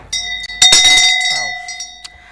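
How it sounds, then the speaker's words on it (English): A bell rung on a news review show, struck twice in quick succession, then its bright metallic tone rings out loudly and slowly fades, with a brief vocal murmur partway through. "I was expecting you to ring the bell to that."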